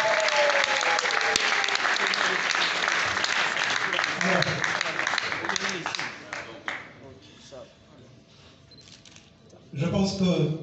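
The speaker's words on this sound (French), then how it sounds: "est-ce qu'on peut l'encourager comme il faut les applaudissements?" An audience at an awards ceremony applauds an artist with loud, sustained clapping that thins out after about six seconds, leaving faint room noise before a voice speaks at the end.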